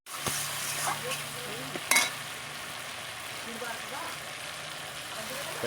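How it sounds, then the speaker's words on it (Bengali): Mustard, onion and garlic paste frying in a pan for katla fish curry, giving a steady close sizzle with an occasional clink of stirring, while people talk over it. "এবার আমি সরষে বাটাটা দিয়ে দেবো"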